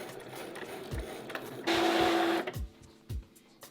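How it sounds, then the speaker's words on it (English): A Cricut Maker 3 cutting machine works on green felt, giving soft mechanical thumps and a short, louder burst of whirring carriage movement in the middle, heard nearby and alone at a modest level. "I have designed some different succulent petals that are being cut right now"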